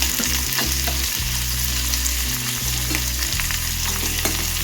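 Onions and dried red chilies sautéing in hot oil make a loud, continuous, close-up sizzle with light crackles and an underlying low hum throughout.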